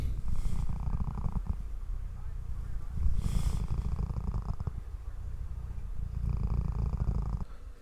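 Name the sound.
cat purring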